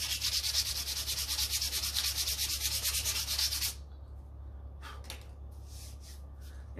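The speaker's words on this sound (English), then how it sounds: "Sand off these rough edges" Sandpaper rubs rapidly back and forth over the rough edges of a butcher knife made from an old saw blade, a steady close scratching that stops partway, followed by a few brief faint scrapes.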